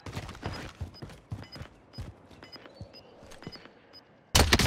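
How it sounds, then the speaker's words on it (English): Rapid bursts of gunfire crackle in a first-person military shooter, a dense string of sharp shots fired in quick volleys with brief gaps, fairly close and loud, ending in a heavy blast of noise. "They shoot me."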